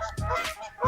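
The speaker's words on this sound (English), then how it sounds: "Geese." Geese honk in a short burst of harsh, overlapping calls at a carp fishing spot, fairly near and loud, with no talk.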